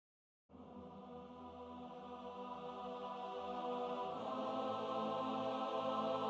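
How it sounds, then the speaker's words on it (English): Synthetic trance choir pad playing sustained chords, entering after a brief silence and swelling steadily louder, with a brighter lift near the end; purely musical, with no voices speaking. "So the choir sounds like this."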